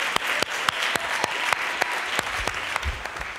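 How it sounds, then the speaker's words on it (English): Audience applause at a school transformation conference opening, a steady wash of clapping with sharp individual claps standing out near the listener, sustained throughout without speech. "Yeah, that's worth clapping."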